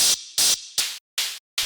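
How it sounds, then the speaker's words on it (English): White noise from an Ableton Operator synth, run through a bandpass filter for a hard industrial techno track, comes as five sharp, evenly spaced hissing bursts that cut off abruptly between hits. "this, which is actually just a bit of white noise inside of operator going through a bandpass"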